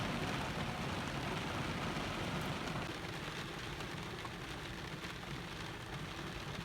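Steady rain falls and patters on a surface around a parked camper van at Long Point, a dense, even hiss at low level, with no voices.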